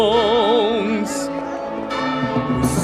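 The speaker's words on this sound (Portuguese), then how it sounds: "Sinos grandes com sons trovejantes e pequenos com sons de oração." Notre-Dame's church bells ring out in Paris, a rich, sustained peal of overlapping tones that hangs in the air, loud and continuous.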